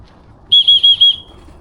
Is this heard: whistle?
yes